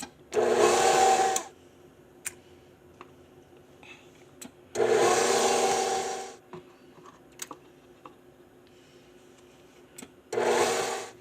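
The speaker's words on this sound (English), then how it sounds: "Now we're going to add 2 eggs, blend that in" An electric mixer blends eggs into creamed chocolate chip cookie dough in three loud bursts of whirring, each lasting one to two seconds, separated by quiet pauses with faint clicks and taps.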